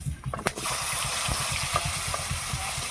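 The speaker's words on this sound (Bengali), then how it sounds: "মাছ ভেজে তুলে নিয়েছি, এবার আলুগুলো ভেজে নেব।" Potatoes frying in hot oil in a home kitchen after fish, a steady broadband hiss with low rumbling bubbling and a few brief knocks near the start.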